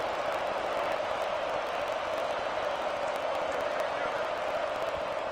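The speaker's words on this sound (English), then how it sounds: "This crowd is trying to inspire this defense to make a big red zone stop." Stadium crowd in NCAA 26 college football, a steady, dense roar of noise with scattered claps and whoops, unbroken and even throughout as the home fans try to rattle the offense in the red zone.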